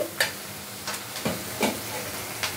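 Onion frying in a pan gives a low steady sizzle, with a few spaced spatula scrapes across the metal, close by and brief.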